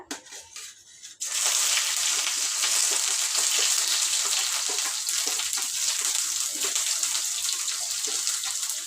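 Chopped onion drops into well-heated oil and erupts into a loud, steady, hissing sizzle that holds for several seconds, following a brief stretch of quieter kitchen clatter.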